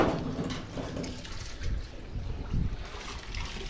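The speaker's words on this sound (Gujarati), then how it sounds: "પાણી ભરી દો ટબમાં." Water pours into a tub of groundnut kernels being cleaned of soil, a steady splashing, rushing stream heard up close and fairly faint, with no talk over it.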